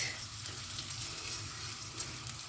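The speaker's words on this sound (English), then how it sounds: "with the olive oil and the onion and the garlic, just let it do this sound, cracking" Onion and garlic sizzle steadily in olive oil in a pan, a soft, continuous crackling frying sound with a small pop near the end and no talk.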